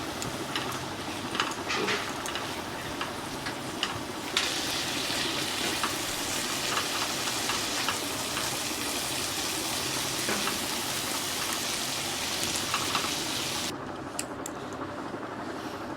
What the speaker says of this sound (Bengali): এবার আমি এটাকে ভালোভাবে নেড়ে নেব।